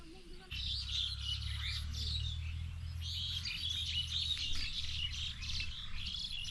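Birds chirping by a village pond during hook fishing, with bright repeated calls and tweets carrying over a low steady background hum, fairly close and continuous.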